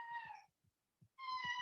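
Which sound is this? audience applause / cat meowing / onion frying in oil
cat meowing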